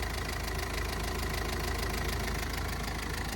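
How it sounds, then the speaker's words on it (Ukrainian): A 2006 Opel Vivaro 1.9 dCi diesel van engine idles steadily with a low, even rumble and a faint rhythmic knock, constant throughout with no talking. "двигун працює, як чуєте, просто ідеально."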